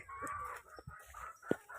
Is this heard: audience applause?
no